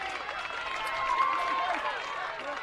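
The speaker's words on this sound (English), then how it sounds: "Great round of applause there from the Diamond Creek faithful" Diamond Creek supporters applaud at a senior women's football grand final, a steady, moderately distant wash of clapping and crowd noise with a faint whistle-like tone partway through.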